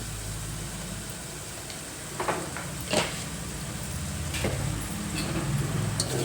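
Chili powder and turmeric sizzle and fry in a pan of egg curry base, a soft steady hiss close by with a few sharp clinks and scraping stirs of a spoon.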